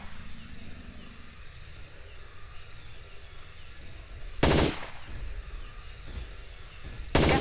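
Two sharp, loud gunshots crack out in the Jurassic Park Trespasser video game, spaced a few seconds apart over a steady low ambient hum.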